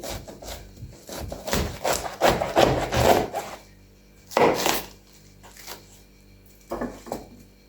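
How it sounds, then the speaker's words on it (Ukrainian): A knife saws and crunches through crisp Napa cabbage, halving it, in a run of rapid rasping strokes, then a few separate single cuts, close up and without talk. "300 грам пекінської капусти розрізаю навпіл"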